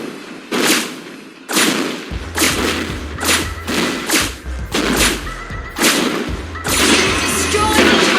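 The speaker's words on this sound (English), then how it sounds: "Careful, a turret can deal massive damage to me. Let's work with our minions to take it down." Heavy thuds and gunfire-like blasts sound from a Mobile Legends mobile game battle as a hero and minions attack a turret. The impacts repeat in loud, regular bursts over a steady low rumble, with no speech.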